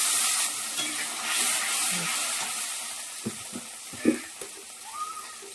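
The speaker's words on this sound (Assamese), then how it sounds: "এতিয়া বেগুনা ভাজা তেলটোতে পেষ্ট কৰি ৰখা বিলাহীটো দি কেনে ভালকৈ ভাজি ল'ম" Tomato paste fries in oil left from frying brinjal, a soft sizzle with occasional stirring scrapes and clicks of a utensil against the pan, close and fairly quiet.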